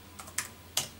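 Keys tapped on a computer keyboard running SymbOS 2.0, a few quiet, separate clicks close by in a short, uneven burst.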